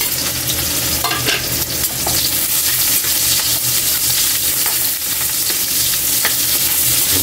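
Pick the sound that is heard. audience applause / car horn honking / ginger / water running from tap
ginger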